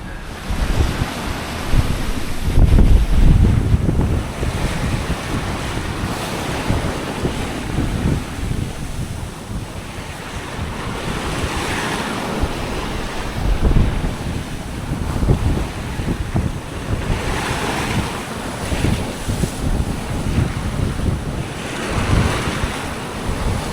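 Sea waves wash in and out beneath steady wind while sailing in the Bahamas, a continuous roar of surf with gentle surges rising and falling.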